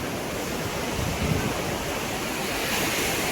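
Sea waves breaking on the beach at Puri at sunrise, a steady broad roar of surf with soft swells and some wind buffeting, no voices.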